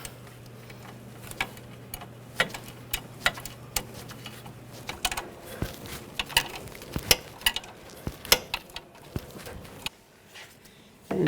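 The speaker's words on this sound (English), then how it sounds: "tighten down the nut." A front strut nut on a 2009-2017 Volkswagen Tiguan is tightened with a wrench while a 5mm hex key holds the stud, giving irregular sharp ratchet-like clicks close by over a low steady hum that fades halfway.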